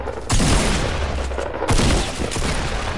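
Rapid bursts of gunfire from the Fortnite video game, two loud sustained volleys of close, crackling shots each about a second long, followed by dense lingering echo.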